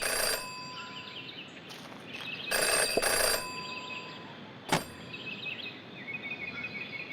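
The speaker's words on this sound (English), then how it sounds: "Jenny had learned never to ignore a ringing phone." A telephone rings in the detective video game Jenny LeClue, several loud trilling bursts separated by pauses over a quiet ambient background, with no speech.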